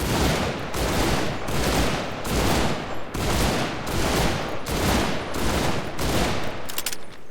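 A submachine gun in the shooter Enlisted fires in repeated short bursts, about one every second, each a loud crackling volley separated by brief gaps, with no talking over it.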